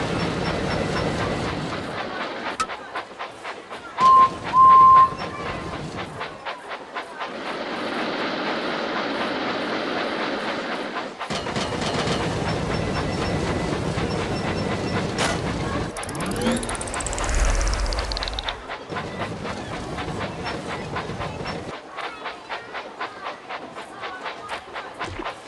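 Toy engine in the Thomas & Friends Minis video game runs along the tracks with recurring clickety-clack and a brief rising whistle sweep, broken into separate stretches by short pauses, with a voice speaking over parts.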